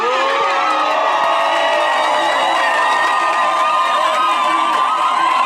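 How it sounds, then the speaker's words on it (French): A large crowd shouting, cheering and whooping continuously at high volume, a dense mass of overlapping voices with no pauses throughout. "Maintenant, je vous ordonne à pousser les cris"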